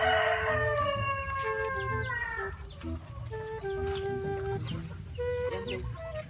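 Backyard chickens on a rainy, flood-prone farm give several drawn-out rooster crows, close and fairly loud, over a bed of scattered clucking and background chatter of the flock.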